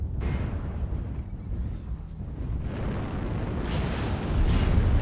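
A target mech blowing up in MechWarrior Online, a deep rumbling explosion that swells and rolls on, growing louder toward the end, with faint electronic cockpit tones above it.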